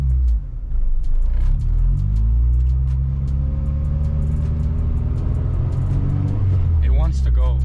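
A supercharged Acura RSX engine pulls hard on its first drive, a loud, close, continuous rumble with a rising tone as the car accelerates, easing off near the end.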